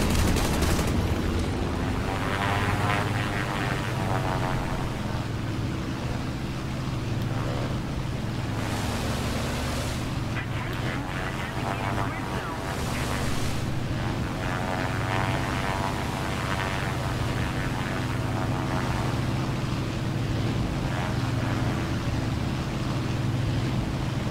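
A Yak-9T fighter fires its guns at a Stuka in War Thunder. The propeller engine drones loudly and continuously, with brief bursts of gunfire rising above it.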